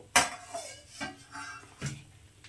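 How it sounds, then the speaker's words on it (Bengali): Metal pot lid lifted off a pot of biscuits cooked on a gas stove, giving several light clanks and scrapes spread over a couple of seconds, close and fairly soft. "পনেরো মিনিট পর আমি ঢাকনাটা খুলে দিচ্ছি"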